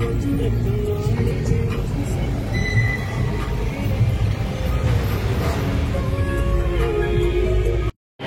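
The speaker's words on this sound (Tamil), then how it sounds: "டிராஃபிக் அடிக்குது." Road traffic rumbles continuously, a dense mix of engines and passing vehicles heard from close by, with some faint voices underneath before a sudden cut at the end.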